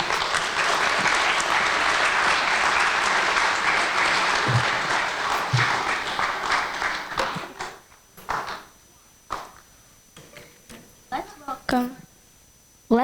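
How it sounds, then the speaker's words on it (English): Loud, dense audience applause fills a hall as a Kuchipudi dancer is welcomed onto the stage at her Rangapravesham debut, holding steady for several seconds before thinning to scattered claps and faint stage noises. "let's welcome the star of the evening, Shruthi, onto the stage with a big round of applause."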